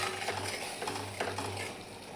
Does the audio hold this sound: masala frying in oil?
yes